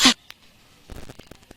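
A single sharp sneeze bursts out at the start, followed by faint shuffling and small rustling sounds in a quiet room.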